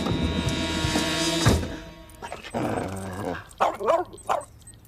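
A dog barks and yelps in several short bursts near the end, following a stretch of dense background sound, with no speech.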